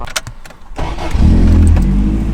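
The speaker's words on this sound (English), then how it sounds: "That fires up nice, That was a man. clean startup, man." A Toyota AE71 car with a 4A-GE engine cranks briefly, then catches and settles into a steady, loud idle close by.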